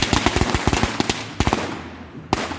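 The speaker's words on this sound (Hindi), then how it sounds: "छोटे मोटे पटाखे तो फटते ही रहेंगे पूरी रात इनके" Firecrackers burst during Bonfire Night celebrations in Europe, a rapid crackling string of sharp pops followed by a few louder isolated bangs, close and loud.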